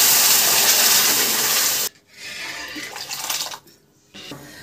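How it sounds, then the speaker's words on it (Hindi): Sugar syrup poured into semolina halwa roasting in ghee in a pan gives a loud broadband sizzle that cuts off abruptly, then returns as softer bubbling and hissing in uneven bursts. "अब जो हमने चीनी का पानी बनाया था वो पानी डाल देंगे।"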